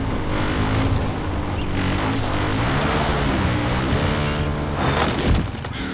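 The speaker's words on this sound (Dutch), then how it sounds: "laat ik de quad pakken." A quad bike engine in the video game Far Cry 5 drones and revs continuously while driving, pitch rising and falling with throttle, loud and close throughout.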